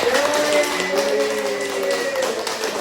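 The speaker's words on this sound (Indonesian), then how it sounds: "beri tepuk tangan untuk kelompok terakhir" A classroom group applauds the final student presentation group, a steady wash of clapping hands sustained for a few seconds, with a voice or tone running faintly underneath.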